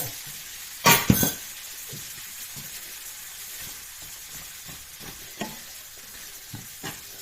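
A spatula scrapes and stirs turmeric rice in a pan. The strokes are soft and repeated under a faint sizzle, with one louder clatter early on.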